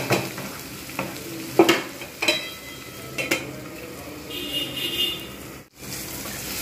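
Spiny gourd (kakrol) frying in a covered pan, with a steady close sizzle broken by a few sharp clinks and scrapes, then a brief drop to near silence before the frying hiss returns.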